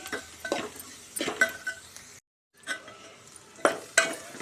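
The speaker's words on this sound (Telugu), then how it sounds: "ఉల్లిగడ్డలు వేగినాక ఇలా పసుపు వేసుకోవాలి" Sliced onions fry in a pan as turmeric is added, with short bursts of soft sizzle and spoon scraping against the pan, a few clinks, and a brief silent gap midway.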